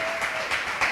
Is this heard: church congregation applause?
yes